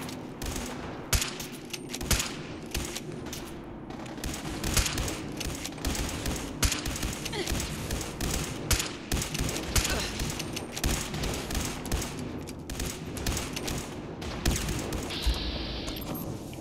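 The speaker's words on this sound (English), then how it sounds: "Switch it to the triple barrel handmade shotgun." A triple barrel handmade shotgun blasts repeatedly during a Fallout 4 firefight, with many loud, sharp reports over a dense, continuous bed of combat noise and no clear gaps.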